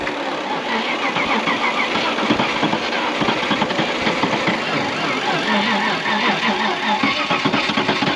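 A Land Rover Discovery engine cranking and running in the woods, a dense, loud mechanical rumble with rapid rhythmic pulsing throughout, with voices mixed in.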